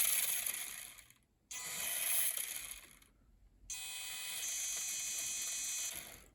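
Constant grinding from a red Power Craze Safari Racer RC car as it drives, a steady high-pitched mechanical rasp with a couple of brief breaks, fairly faint and heard alone.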